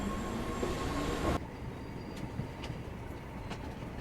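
A train rumbles loudly in a TV drama scene for about a second and a half, then cuts abruptly to a quieter steady background with faint clicks.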